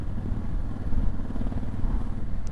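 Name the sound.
Honda Africa Twin motorcycle riding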